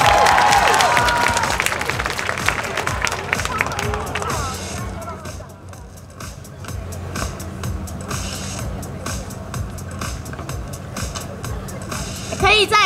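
Audience applause at a concert of a Chinese ensemble with a pipa player, following a solo; broad, dense clapping fills the start, then eases into a softer, steady patter with voices mixed in.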